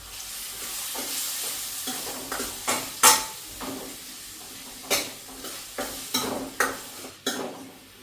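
Two large finely chopped onions fry and sizzle in a pan, with a steady sizzle broken by repeated scraping stirs and clinks of a utensil against the pan, close and without talk.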